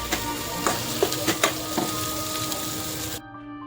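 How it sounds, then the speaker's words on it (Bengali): A spice paste with ginger and garlic paste sizzles steadily in a pan for Patiala chicken, while a spoon gives several sharp scraping clacks against the pan; the sizzle cuts off abruptly near the end. "রসুন বাটা ও আদা বাটা দিয়ে আবার মশলাটাকে একবার ভালো করে নেড়েচেড়ে ভালো করে কষিয়ে নিতে হবে।"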